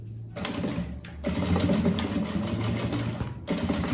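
A sewing machine stitches the lining of a quilted puffer tote bag, its fast rhythmic needle hum running close and loud in bursts with short pauses between.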